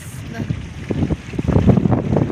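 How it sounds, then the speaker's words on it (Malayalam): Wind blowing by the water at a riverside landing, buffeting the microphone in uneven gusts that grow stronger toward the end, while someone talks close by. "എന്ത് കാറ്റാന്നറിയോ?"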